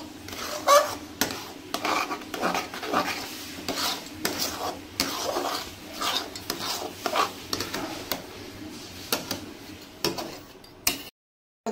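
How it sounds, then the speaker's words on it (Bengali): Chhana dhoka curry being stirred in a kadai, repeated rhythmic scraping and rubbing of a spatula against the metal pan, steady and close, ending abruptly. "সুন্দর করে নাড়তে হবে।"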